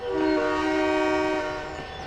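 A passenger train in the Trainz 22 railway game sounds its horn, a loud sustained chord held for nearly two seconds before fading, with rumbling rail noise underneath.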